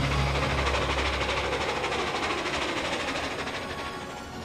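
The Durango and Silverton narrow gauge railroad train rolls past loudly with a dense rhythmic clatter and a low rumble at the start, slowly fading as it moves away.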